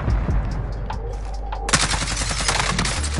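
Rapid automatic gunfire from Call of Duty Warzone, a few scattered shots at first, then a dense, sustained burst of loud rattling fire that continues to the end with no talking.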